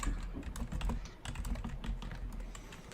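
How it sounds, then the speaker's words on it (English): Rapid, dense typing on a computer keyboard, close and continuous for a few seconds with a busy clatter of keystrokes and no talking. "I'm typing to somebody."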